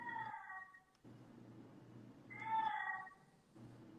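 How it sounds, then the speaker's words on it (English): A cat meows twice, drawn-out and plaintive, faint and indoors with low room noise between the calls. "It's my mom's cat."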